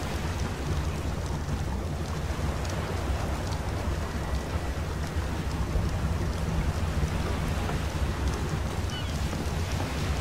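In the video game Ark: Survival Evolved, rain and storm at sea make a dense, unbroken roar of noise with a low rumbling undertone, loud and constant throughout.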